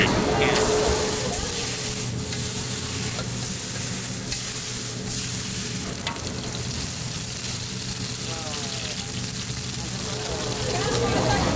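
Oyster omelet batter fries and sizzles on a hot street-stall plate in Taiwan, a steady close hiss with scraping and stirring sounds, under talk.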